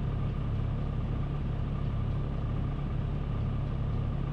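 A steady low rumbling drone of a train's diesel engine idling in the Train Simulator Classic game, running alone and unchanging at moderate level with no other sounds.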